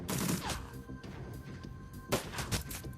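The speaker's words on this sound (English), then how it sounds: "You have an SMG and you can't aim." Rapid bursts of SMG gunfire in the Shadowrun video game, quiet and distant, with several clattering volleys at the start and again near the end over a rumbling background.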